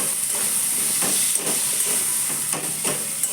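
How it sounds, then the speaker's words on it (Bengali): Diced potatoes hitting hot oil in a pan, giving a steady loud close sizzle and hiss throughout, with faint stirring or scraping bumps and no talk. "এবার দিয়ে দেব আলু। আমি আলুগুলোকে ডুমো ডুমো ভাবে কেটে নিয়েছিলাম।"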